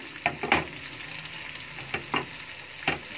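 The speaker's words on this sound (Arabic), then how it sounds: "هنزل بكميه الثوم والبصل الاثنين مع بعض، لاني انا مش عايزه البصله تغمق" Garlic and onion fry together in a pan for a kabsa, sizzling softly while a spoon scrapes and stirs in several sharp bursts, close by and with no talk.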